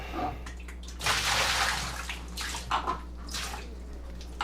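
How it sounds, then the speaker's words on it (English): Water from a Levoit LV600HH humidifier's water chamber is dumped out in splashing, gushing bursts, up close, with a steady low hum underneath and short pauses between pours. "And then I'm going to dump out all the water."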